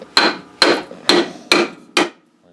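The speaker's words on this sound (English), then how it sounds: "we've got our hammer from our tool kit" A hammer strikes battery box metal laid over a 2x4 in five loud, evenly spaced blows, each a sharp metallic clang with a short ring, then silence.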